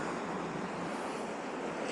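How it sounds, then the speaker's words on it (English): Surf rolling in on Hornsea's Blue Flag beach, a steady, continuous roar of breaking waves with some wind across the microphone, no gaps or voices throughout. "look at those waves"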